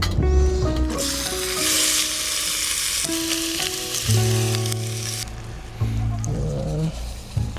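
Food sizzles and fries steadily in a pan while cooking at a lakeside campsite, a close, continuous crackle with tonal bursts of background music over it.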